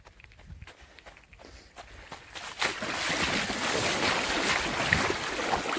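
A person wades into sea water: scattered footsteps and splashes at first build into a loud, continuous churning wash of water, close to the microphone.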